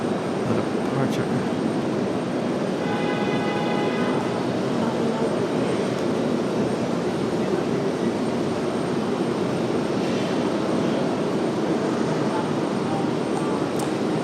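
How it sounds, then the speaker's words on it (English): An Airbus A350 departing for Paris gives off a steady, continuous jet engine roar that fills the whole stretch at an even level, with brief tonal whines partway through. "A350 departure back to Paris."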